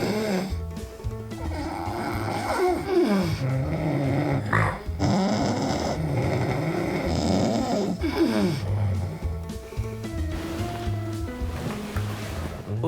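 A man snores very loudly at night, reaching peaks around 95 decibels, with deep rasping rumbles repeating in a steady breathing rhythm, close and dense throughout, over a low continuous background.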